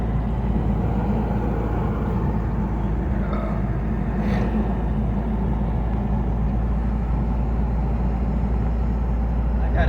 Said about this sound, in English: Taking a little drive in the 4Runner.